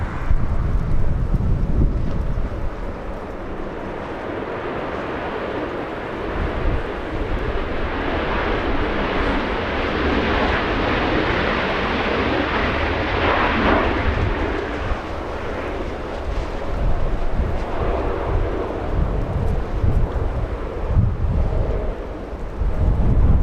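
A Southwest Airlines jet arriving at LAX from San Jose produces a broad, rumbling roar that swells through the middle and stays fairly close, mixed with gusty wind buffeting.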